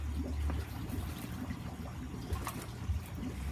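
Compost tea poured raw, unfiltered, into a 20-gallon closed-loop compost brewer, a steady low splashing and trickling of liquid that runs continuously at close range with a few brief surges.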